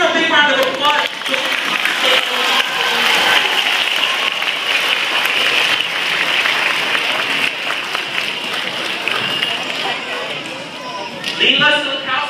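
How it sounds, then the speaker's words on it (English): A crowd of children in a classroom or school audience claps loudly for a boy, a dense sustained round of applause with voices and chatter mixed in, fading slightly before a voice speaks at the end. "Give him a big round of applause."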